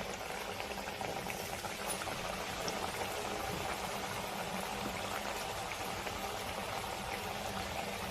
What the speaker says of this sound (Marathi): आपलं तेल गरम झालंय आपण ही चकली तेलात सोडू